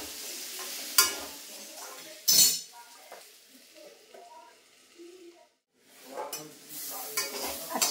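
Spices roasted with cumin and garam masala for a sweet-sour mango pickle are stirred in a pan, soft sizzling broken by a few sharp metallic clinks and scrapes of a spoon, with quiet pauses between.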